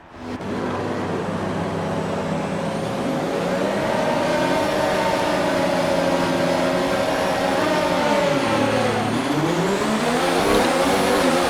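Several F1 race cars in a video game scream away from the start at the Russian Grand Prix, engines climbing and shifting through gears in a loud, continuous high-pitched wail; close and sustained, no talking.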